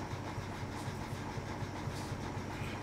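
A Class 03 diesel shunting locomotive moves around Doncaster Works with a steady low engine drone and a faint regular low thump, continuous at moderate distance with no talk.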